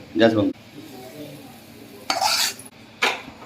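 Homemade masala is stirred into mutton in a pot: a few short scraping, clinking strokes of a spoon against the metal vessel, with soft sizzling between them and a voice speaking briefly.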